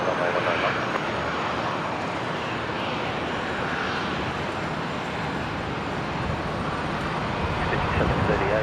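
Airliner engine roar on the runway at Brisbane airport during takeoff, a steady, loud, broadband rumble that holds without break throughout.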